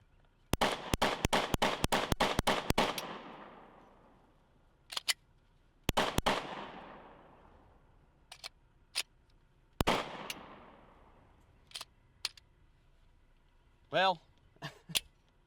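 A pistol is fired at an outdoor marksmanship range in rapid strings of loud, sharp shots: a fast burst of about ten, then pairs and single shots spaced out, with a few metallic pings near the end.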